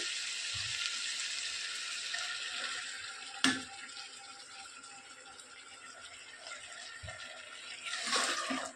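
Mutton frying in a pan as a ground masala paste is added: a soft, steady sizzling hiss broken by a few light clunks, with a brief louder burst of sizzle near the end.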